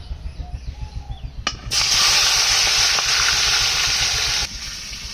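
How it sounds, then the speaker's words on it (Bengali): Prawns drop into hot oil and set off a sudden loud, steady sizzle close up. It runs for a few seconds, then eases back, following some softer rhythmic thumps beforehand. "তেল গরম হয়েছে এখন মাছটা দিয়ে দেবো"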